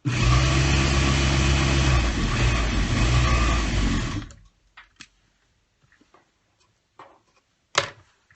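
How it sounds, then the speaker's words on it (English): Sewing machine stitching the outside piece of a rag quilt pillow sham, a loud steady whirring run for about four seconds that stops abruptly, followed by faint handling clicks. "now we gotta sew on the outside piece"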